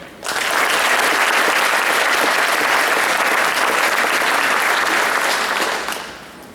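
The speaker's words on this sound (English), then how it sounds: "And another round of applause for all our juniors and their parents." Audience applause at a scholar club awards ceremony, a dense, steady burst of many hands clapping that swells in quickly, holds loud for several seconds, then tapers off.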